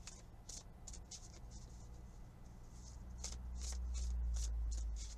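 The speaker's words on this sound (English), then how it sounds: "Just give me a minute to shuffle." A tarot deck is shuffled gently by hand, with a soft run of rhythmic riffling flutters repeating close up over a low background rumble.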